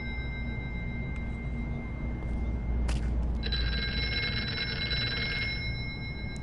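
A telephone rings inside a video game, a sustained electronic trill lasting a few seconds over a constant low ambient hum, clear and fairly close.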